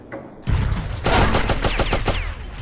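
Sniper gunfire in the video game Oddworld: Abe's Oddysee, a loud burst of rapid shots in quick succession with sharp repeated cracks over a booming low rumble, close and dense.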